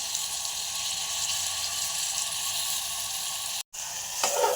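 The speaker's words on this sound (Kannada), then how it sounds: "ಇವೆಲ್ಲ ಎಣ್ಣೆಗೆ ಒಂದೆರಡು ನಿಮಿಷ ಫ್ರೈ ಆದ ನಂತರ ಇದು ರುಬ್ಬಿಟ್ಕೊಂಡಿರ್ತೇವಲ್ಲ ಮಸಾಲ," Ground masala paste fries in hot oil in a pan, giving a loud, steady, close sizzle with a brief cut and a flare of spattering near the end, with no talking.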